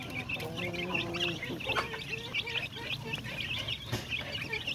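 Free-range chickens clucking around a farm coop, several birds giving busy overlapping clucks and calls at moderate distance, fairly faint with no talk.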